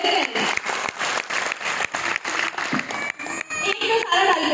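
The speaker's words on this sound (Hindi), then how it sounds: "एक बार तालियां इनके लिए बजाइए, जोरदार तालियां।" An audience at an entrepreneur seminar claps loudly together, the applause mixed with amplified speech and music-like tones; the clapping comes in uneven surges rather than a smooth wash.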